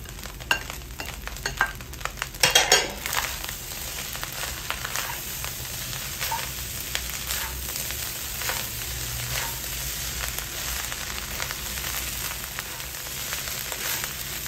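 An egg frying in a small pan for Pinoy-style fried rice, a steady close sizzle with scattered crackles and a brief burst of stirring clatter early on, constant and moderately quiet.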